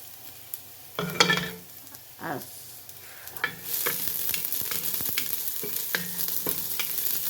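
Garlic sizzling in oil in a soup pot, a steady frying hiss that swells louder midway, broken by a few sharp stirring scrapes and clinks of a utensil against the pot.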